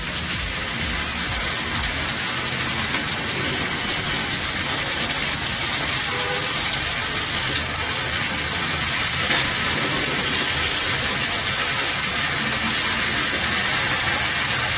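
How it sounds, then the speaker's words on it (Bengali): A steady, loud, even sizzle comes from masala paste frying with prawns for Goan prawn balchao pickle. It carries on without a break and has no talk over it. "এবার সেই পেস্টটা আমি এর মধ্যে দিয়ে দেব"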